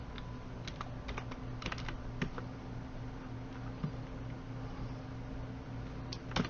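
Keys are pressed on a computer keyboard, including the Tab key, while entering data into an Excel spreadsheet. The soft clicks come in irregular bursts over a low steady hum, close up, with no speech.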